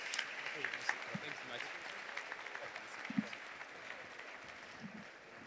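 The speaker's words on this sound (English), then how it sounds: "One more time, a big round of applause for EthicHub." Audience applause at a blockchain startup convention pitch competition, a steady wash of clapping from a hall crowd, moderately distant and sustained for several seconds with scattered louder claps.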